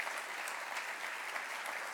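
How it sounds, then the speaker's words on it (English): Audience applause at an awards gala, a steady, even wash of clapping from a crowd, moderately distant and filling the whole stretch without a break. "a little round of applause"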